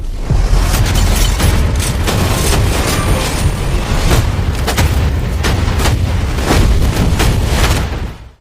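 Heavy gunfire and booming blasts from a sci-fi movie trailer, loud and dense throughout, with sharp repeated cracks and deep low-end thuds stacking over a continuous rumble.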